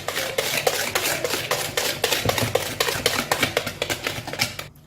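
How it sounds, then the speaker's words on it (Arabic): Chocolate cake batter of eggs and sifted cocoa is stirred in a bowl with a utensil, giving dense, rapid scraping and clinking strokes that stay loud and close throughout with no talking. "نخلط يدخلوا كامل المقادير مع بعض."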